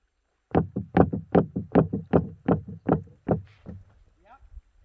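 Stones skipping across water at Amistad National Park, a quick run of about eleven close, sharp splashing taps that speed up and fade out, with a faint voice at the end.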